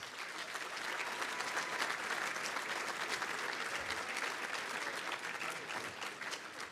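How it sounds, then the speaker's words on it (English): Dense, sustained applause from a large audience at a football celebratory dinner, a steady roar of many hands clapping that holds evenly from start to finish. "How about a nice round of applause for those guys?"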